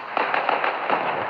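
Tank cannon fire in the World of Tanks mobile video game, featuring the Japanese tier 1 Ha-Go: a rapid string of crackling pops over a continuous rumbling blast, loud and close.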